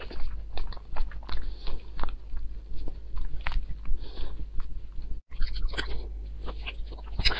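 Wild akebia fruit, the bitter-skinned wild "August fruit" picked in the mountains, being chewed close to the mic in a steady run of wet biting and crunchy mastication sounds, with one brief pause near the end and no talking.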